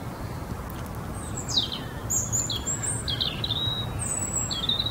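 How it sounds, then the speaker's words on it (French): Small birds chirp and tweet outdoors in fair weather, short high calls scattered over a steady background hiss, fairly faint and with no voices. "Donc je vois que les oiseaux sont très contents."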